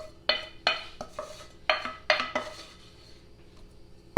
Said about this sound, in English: you're just going to get it all out of your pan and mash it down